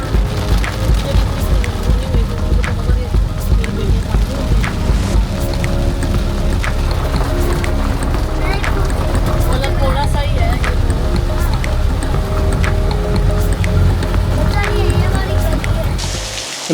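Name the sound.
rain falling in Bali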